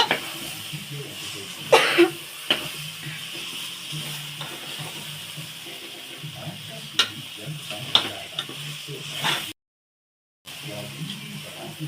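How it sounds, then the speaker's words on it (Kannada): Grated coconut and coriander are stirred into a pumpkin palya, a quiet sizzle under intermittent scraping and knocks of a spoon against the pan, with a brief cough and a short silent gap near the end. "ಇವಾಗ ಕಾಯಿ ತುರಿ ಮತ್ತೆ ಕೊತ್ತಂಬರಿ ಎರಡು ಹಾಕೊಂಡು ಇವಾಗ ಚೆನ್ನಾಗಿ ಮಿಕ್ಸ್ ಮಾಡ್ಕೋಬೇಕು"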